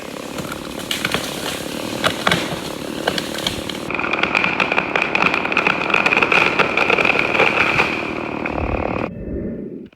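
A chainsaw cuts through a large oak tree being felled, its engine running steadily at full throttle for about nine seconds with a rising whine midway, then cutting off abruptly near the end.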